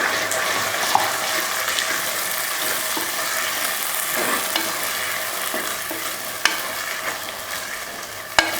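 Masala for a sardine curry sautés in oil in a pan, a steady close sizzle with occasional stirring scrapes and a few sharp clinks of a utensil, with no voices.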